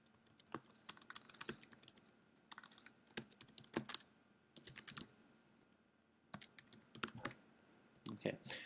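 Quick bursts of typing on a computer keyboard, clattering in uneven runs separated by short pauses, close and fairly quiet while someone works in Photoshop Elements.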